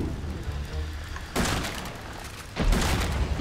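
Two loud, abrupt broadband gunshots from Resident Evil 7 gameplay, about a second apart, each with a booming low-end thump and a short decaying tail over a dark ambient rumble, with no talking.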